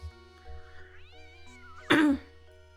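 An unhappy cat meows loudly in the Professor Layton and the Curious Village video game, one sharp, strained yowl rising over soft game music with a steady low hum beneath.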